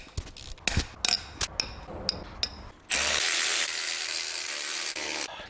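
Loose exhaust manifold nuts on a Vauxhall Astra are cracked free with hand tools: sharp metallic clicks and knocks come in an irregular series up close, followed by a sudden loud, steady whirring rush of a power tool running continuously.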